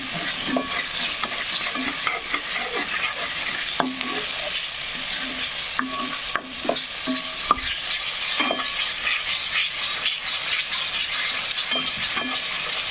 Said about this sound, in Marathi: जोपर्यंत मसाले फ्राय होत नाहीत तोपर्यंत आपण त्याला हलवतच राहायचं आहे